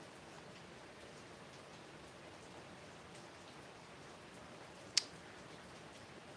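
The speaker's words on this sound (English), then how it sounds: "Can you hear the rain?" Steady, gentle rain hisses evenly in the background, with one sharp tick partway through; no voices.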